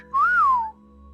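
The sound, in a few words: person imitating a wolf whistle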